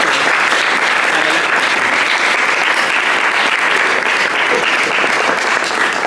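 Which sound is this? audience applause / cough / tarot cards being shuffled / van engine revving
audience applause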